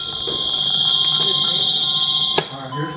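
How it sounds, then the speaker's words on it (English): A house alarm sounds a piercing, continuous high-pitched tone nearby, with a sharp clunk partway through and faint voices underneath. "I'll go turn the alarm off."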